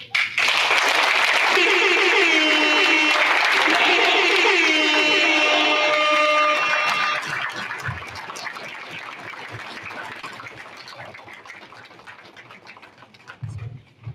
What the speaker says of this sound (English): Can we rise and clap for His Majesty, please?